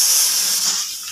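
Onions hit hot oil in a pan with a bright, close hiss of sizzling that fades slightly over about a second, with no one talking.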